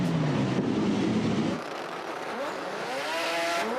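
Early Mazda RX-7 and an RX-8 drag racing in a Sport Compact semi-final at a New Zealand national meet: a loud close engine roar that cuts off, then distant engine whine sweeping up and down.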